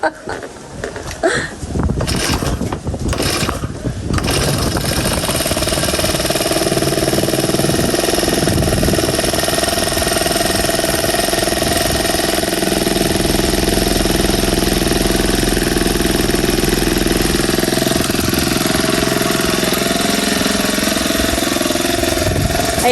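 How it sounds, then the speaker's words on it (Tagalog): A grass cutter's small engine sputters to life after a few irregular pulls and rough bursts, then settles into a loud, steady buzzing drone that runs on for nearly twenty seconds, close by, with no clear speech. "si Bossing ay magagrass cutter na"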